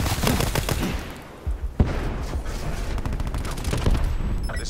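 Sustained gunfire in Call of Duty Black Ops 4 striking a robot, dense overlapping shots with a loud sharp crack midway, continuous and close throughout.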